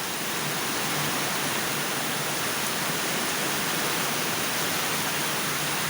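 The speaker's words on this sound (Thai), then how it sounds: "ฝนตกอย่างแรงเลยนะคะ" Heavy rain pours down in a dense, steady hiss that fills the whole scene without letting up, loud and close, with no other sounds standing out.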